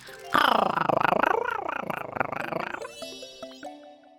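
During a Tomodachi Life game stream, a person imitates a cat purring with a loud, close, rapidly pulsing rumble that rises and falls in pitch for a couple of seconds, then trails off into quiet game sounds.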